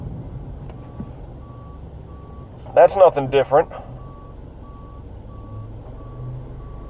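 Faint, distant reversing-alarm style beeps repeating at a steady pace in the background, with a person speaking briefly in the middle.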